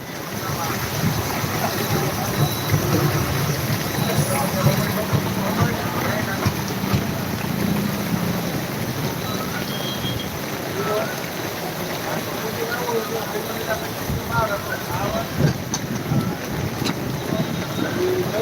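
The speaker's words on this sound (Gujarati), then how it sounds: "ચાર પાંચ ઇંચના વરસાદ પડી જ ગયો છે" Torrential monsoon rain in Jam Khambhaliya roars as a constant, thick wash of noise, with a low rumble underneath and faint voices at times.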